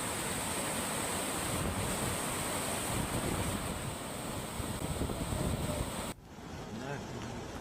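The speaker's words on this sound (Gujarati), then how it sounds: "પર્વત નીચે આવેલા ધોબીપાટનો ધોધ વહેતો થતા પર્યટકો ધોધનો આનંદ માણી" Waterfall at Dhobipat below Osham hill in Dang, flowing during the rainy season, gives a loud, steady broadband roar of rushing water that cuts down abruptly near the end.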